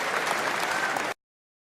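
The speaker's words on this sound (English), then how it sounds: "what a cheer he gets from this Alexandra Palace crowd" A snooker crowd at the Masters in Alexandra Palace, London, breaks into dense, loud applause and cheering that fills the hall for about a second before cutting off abruptly to silence.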